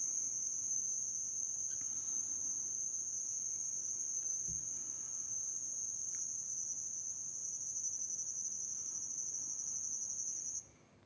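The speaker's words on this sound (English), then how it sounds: "where you can just listen to nature. Cicadas, frogs, and many migratory birds," Steady, shrill insect chorus of cicadas or crickets in coastal nature, a constant high-pitched drone holding evenly throughout at moderate distance with no talk, ending abruptly.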